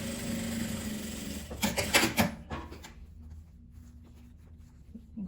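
Sewing machine topstitching a turned seam on a small patchwork fabric coin purse keychain; a steady mechanical whir that swells and stutters midway, then drops to a quieter hum near the end.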